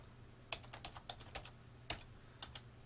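Keys clatter on a computer keyboard as an equation is typed in, a quick burst of close, crisp clicks followed by a pause and a few more taps, over a low steady hum.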